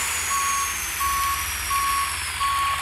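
In a trucking video game, a truck's reversing alarm beeps four times in an even rhythm over a low, steady engine rumble, with no voices.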